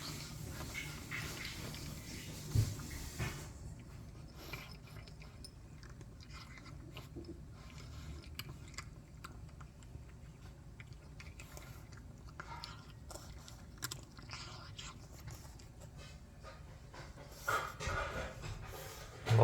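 A cat chewing food indoors at home, soft close crunching and mouth sounds continuing at a low level over a long stretch, with faint room noise and no talk.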